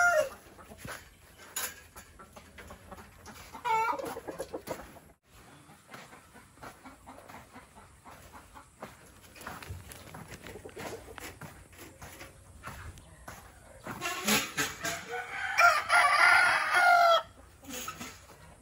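Backyard chickens cluck intermittently at a distance, then a rooster crows loudly near the end, with other faint farmyard noise between calls.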